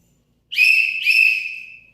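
Two shrill whistle blasts in quick succession, loud and close, the second trailing off slowly, with silence before.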